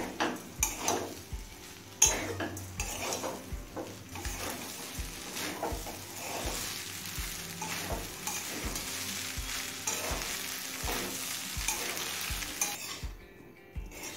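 Sugar is stirred into chicken poha pulao in a pan, giving rhythmic, evenly spaced spoon scrapes and knocks over a soft, continuous sizzle, with a brief quiet moment near the end.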